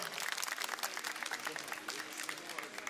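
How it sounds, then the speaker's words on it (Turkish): Crowd applause at a CHP political rally in Manisa, a brief burst of many hands clapping at moderate distance, fairly dense and even throughout, with faint crowd noise mixed in. "Bir yapın alkışı duyalım."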